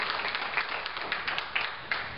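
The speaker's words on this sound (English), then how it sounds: "Let's give a round of applause to the children that are here today" Audience applause for children at a gathering, a steady wash of many hands clapping with scattered sharper claps, moderately loud and without talk.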